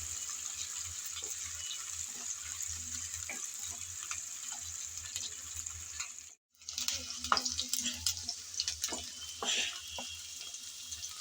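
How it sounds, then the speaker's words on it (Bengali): Onion and garlic fry in a pan until light brown, giving a continuous close sizzle with scattered stirring clicks and a brief moment of silence midway, then sizzling again. "হালকা ব্রাউন কালার করে সব কিছু ভেজে নেব।"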